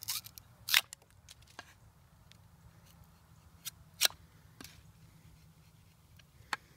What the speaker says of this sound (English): this is a piece of bamboo that I cut a couple of days ago. We're just gonna see how it works cutting through